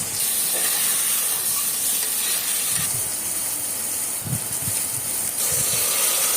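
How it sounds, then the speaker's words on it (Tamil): Chopped carrots and beans sizzle and hiss steadily in a hot pan while being sautéed for vegetable pulao, with occasional scraping and stirring clatter under the constant frying noise. "கேரட், பீன்ஸு 2த்தையும் போட்டு நல்லா பச்சை வாசனை போகிற அளவுக்கு வதக்கிட்டு"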